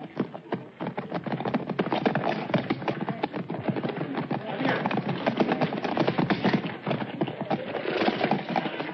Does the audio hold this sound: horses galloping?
yes